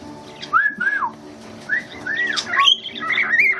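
Several birds chirp and whistle in a series of rising and falling calls, fairly close and clear, overlapping one another across a steady outdoor backdrop with no talking.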